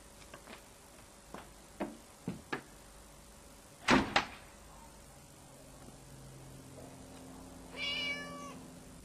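A stray cat that darted out meows a few times indoors, short cries near the start followed by louder bursts midway, with a door or sliding sound toward the end.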